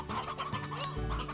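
Chickens in the Slime Rancher video game cluck in quick, close, bubbly bursts, several hens overlapping in a short run.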